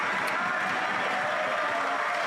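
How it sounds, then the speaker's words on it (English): Conservative members cheer and applaud in Canada's House of Commons during Question Period, a loud, steady wash of voices and clapping that fills the whole stretch without a break. "The Conservatives are cheering"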